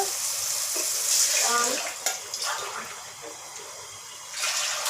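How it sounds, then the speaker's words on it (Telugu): Water pours into a pot holding rice, three glasses to two of rice, making a gushing, splashing rush that eases off and then swells again. "3 గ్లాసుల వాటర్ వేసుకున్నాము."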